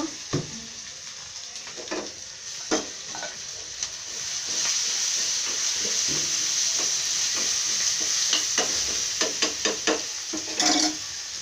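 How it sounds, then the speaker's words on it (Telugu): Curry leaves, ginger and green chilli paste fry in a pan for a raw banana curry, making a loud continuous sizzle broken by repeated stirring clatters and scrapes. "కరివేపాకు వేస్తున్నాను. అల్లము, పచ్చిమిరపకాయలు పేస్టు వేస్తున్నాను."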